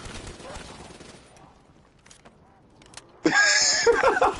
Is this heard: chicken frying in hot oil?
no